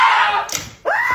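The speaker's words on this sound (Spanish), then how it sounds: "¿Qué son esos gritos?" Children screaming at play indoors, loud high-pitched shrieks and squeals that break off for a moment, then rise again in a rising wail.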